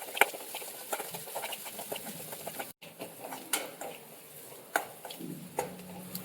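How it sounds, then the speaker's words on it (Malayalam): A spoon stirring onion masala with salt for a Kerala egg theeyal in a pan, soft scraping and tapping in irregular strokes over a low sizzle, close and fairly quiet with no talking. "പാകത്തിനുള്ള ഉപ്പും കൂടെ നമുക്ക് ഈ ടൈമിലൊന്ന് ചേർത്ത് നന്നായിട്ട് എല്ലാം കൂടെ ഒന്ന് മിക്സ് ചെയ്ത് കൊടുക്കാമേ"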